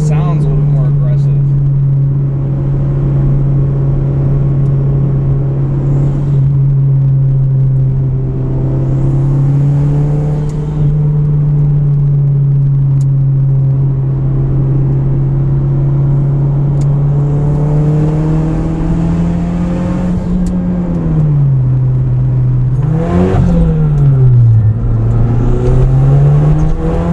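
Inside a tuned car fitted with a Greddy Profec boost controller, the engine drones steadily under load at a near-constant pitch, then dips and rises as it shifts and accelerates again, loud throughout with faint voices.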